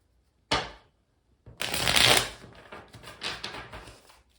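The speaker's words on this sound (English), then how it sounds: "let me give it a good shuffle" A deck of tarot cards is shuffled by hand: one quick riffle, a pause, then a longer crisp riffle and flutter of cards that trails off, close and clear with no talk.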